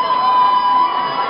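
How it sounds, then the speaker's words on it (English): A large high school crowd yells loudly in a gym or stands, a dense continuous roar of many voices with no pauses across the short stretch. "I want to hear a very loud crowd."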